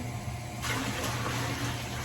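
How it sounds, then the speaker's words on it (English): Water runs from a tap into a bucket beside a three-section sink during draft beer line cleaning, a steady rushing flow that swells louder after a moment and continues evenly. "And I'm just going to fill back up my bucket."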